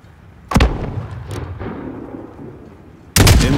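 Mortar rounds from a Call of Duty: Modern Warfare battle land in two heavy, booming impacts spaced a few seconds apart, each ringing into a rumbling decay, with no voices present.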